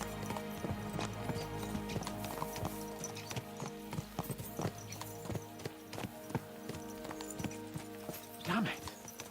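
Horses gallop in the medieval video game Kingdom Come: Deliverance II, with steady clip-clopping hooves close by over a droning game soundtrack and a brief whinny near the end.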